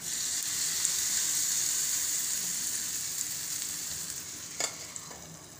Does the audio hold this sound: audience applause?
no